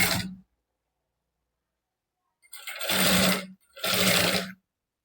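An electric sewing machine stitches the side joints of a princess-cut back-open garment, one short burst at the start, then two loud bursts of rapid whirring stitching separated by a brief pause, close to the microphone.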